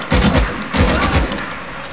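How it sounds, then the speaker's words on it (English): Gunfire in the open-world zombie game Days Gone: two loud, close blasts about half a second apart, each with a heavy low boom and a rolling tail, with no talk. "The wolves must have heard the shot."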